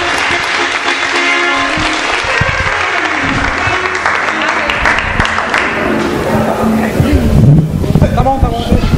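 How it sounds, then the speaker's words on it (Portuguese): A church congregation in Bolivia claps loudly and continuously during a worship service, with voices calling out over the applause and a voice growing prominent near the end. "Un fuerte aplauso al Señor, hermano."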